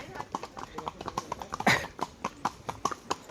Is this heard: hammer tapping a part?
no